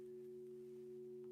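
A Qi Coil frequency tone built as a harmonic chord, several steady pure tones sounding together as one sustained, faint hum with no voices.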